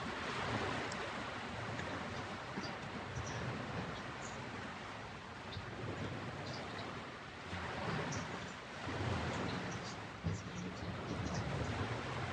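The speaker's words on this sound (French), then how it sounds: "Laisse-toi bercer par le rythme lent et profond des vagues." Steady broadband ocean surf washing continuously with slow swells rising and falling, moderately loud and close, with a wind-like hiss and no voices.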